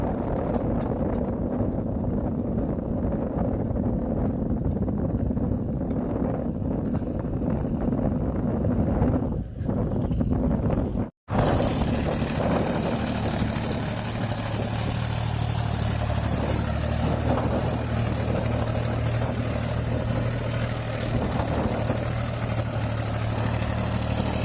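A tractor engine idles steadily on a farm field, its low, even drone running alone under gusty wind rumble on the microphone, with a brief dropout near the middle.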